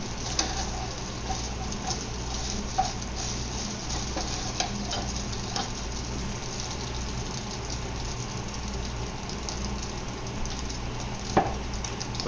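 Cooked egg is broken into big pieces in a hot wok, with a constant even sizzle and a few sharp spatula clinks scattered through, up close and without talk.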